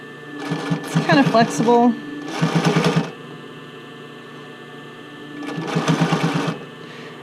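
Sewing machine stitching the fitting band of a bra over elastic, in two bursts of steady rapid running, the first overlapping a close voice talking, with a quiet pause between.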